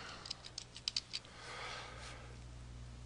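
A short run of light taps on a computer keyboard while typing a search term, then a softer rustle; faint and close with no talking.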